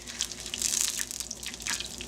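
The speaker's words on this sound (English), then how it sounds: "Now the butter is going to foam and sizzle as the water evaporates from it." Butter foaming and sizzling in a metal skillet over medium heat gives a steady bright hiss scattered with small crackling pops, close and alone with no voices.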